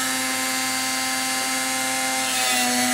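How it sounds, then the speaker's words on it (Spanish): A power tool sands down the power button of a Chinese tablet, giving a steady, close, continuous whine with a constant motor hum that runs unbroken for the whole stretch, with no talk over it. "vamos a lijar un poco."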